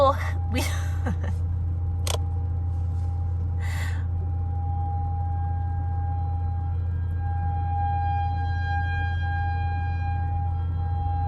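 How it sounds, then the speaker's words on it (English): A tornado siren wails steadily for several seconds, a loud sustained tone that starts right after some brief voice sounds and continues alone. "That's a tornado siren."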